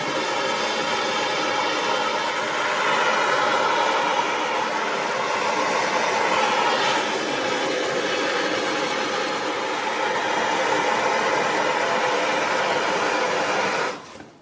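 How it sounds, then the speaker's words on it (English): A blow lamp heats small metal parts from a Land Rover in a workshop before priming, giving a steady, loud roaring hiss that runs unbroken and then cuts off at the end. "Heat them up with the blow lamp and then put a bit of primer on there"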